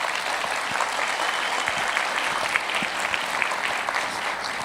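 A church congregation claps at a Sunday service, many hands together in a full, steady ovation that holds at the same level from start to finish with no talking over it.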